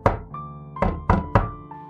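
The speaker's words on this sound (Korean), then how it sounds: "나는 약간의 짜증 섞인 목소리로 노크를 하며 말했다" Knocks on a locked bathroom door: four sharp, hollow raps spaced unevenly, close and fairly loud, with a faint tonal hum underneath and no talking.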